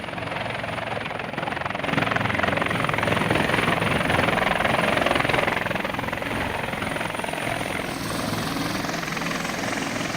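A TNI Air Force Caracal helicopter used for evacuation flights in Papua, heard as a loud, steady rotor and turbine roar that swells slightly in the middle and holds throughout, with no talk.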